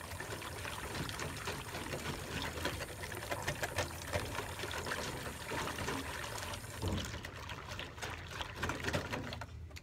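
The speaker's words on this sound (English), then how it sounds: "I'm trying to break them up with my whisk." A whisk breaks up chunks in a wet paper mache mixture, making a steady, close, busy sloshing and clicking that continues for several seconds before easing off near the end.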